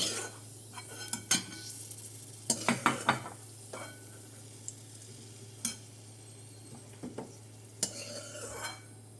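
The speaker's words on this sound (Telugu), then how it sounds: "ఇదే గీలో ఒక గుప్పిడు జీడిపప్పు పలుకులు కూడా ఫ్రై చేసుకుందాం" Cashew pieces frying in hot ghee in a pan while making Tamil Nadu style rusk halwa, with a faint sizzle under repeated stirring clinks and scrapes of a spoon against the pan, close by with no talk.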